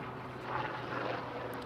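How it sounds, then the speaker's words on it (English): Faint, steady rotor and engine drone of a helicopter passing over a college baseball game at Weehawken, a low distant rumble lasting the whole moment with no one talking. "Helicopter flies over us here at Weehawken."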